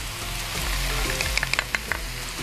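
Flour goes into melted butter in a pan for milky celery soup, a soft sizzle with a few sharp crackles and pops near the end.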